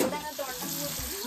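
Sardines fry in a pan, a close continuous sizzle with a short bump of handling near the start.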